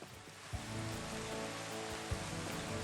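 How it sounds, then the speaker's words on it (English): Steady rain falls in a video game scene at night, a dense continuous hiss with low tonal game sounds beneath and a couple of brief thumps. "Makes it nighttime in the rain, or I guess it's still going"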